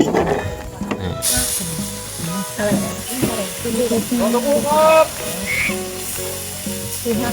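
Steady sizzling of pork frying on a hot tabletop grill, with background chatter and a lively, noisy setting around it, at a floating raft restaurant in Suphan Buri, Thailand.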